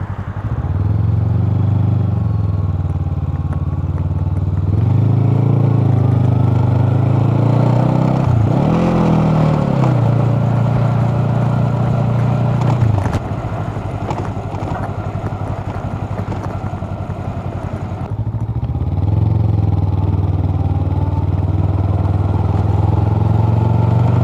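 A Honda Rebel 500 motorcycle running with a straight pipe, its engine and exhaust giving a loud, close, steady low drone, with a rising rev in the middle and a brief dip before the idle settles back.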